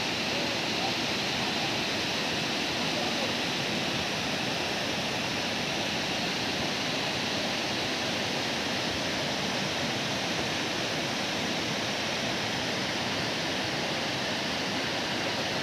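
Steady, full-band rush of a waterfall tumbling beside a bridge, a constant broadband roar with no breaks, moderately loud and unaccompanied.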